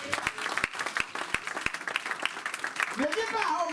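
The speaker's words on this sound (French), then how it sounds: "Donnons quand même une acclamation." Congregation at a church sermon claps in applause, scattered distinct hand claps over a murmuring crowd, with a voice starting to speak near the end.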